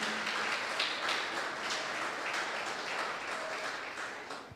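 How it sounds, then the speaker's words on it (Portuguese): Church congregation applauding during a worship service, a steady wash of many hands clapping at moderate distance with no talk over it. "Aplauda o nome de Jesus."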